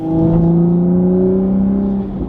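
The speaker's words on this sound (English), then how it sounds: "now let's go rip in the Supra, windows down on a beautiful morning" A Toyota Supra with an AWE exhaust drives with the windows down, giving a loud, close, sustained engine drone with steady harmonic tones that rise slightly, then ease off near the end.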